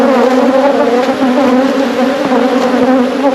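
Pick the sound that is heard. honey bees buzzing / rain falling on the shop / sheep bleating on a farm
honey bees buzzing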